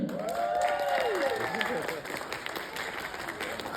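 A crowd at a karaoke contest claps continuously at moderate volume while a voice with sliding tones carries over the applause.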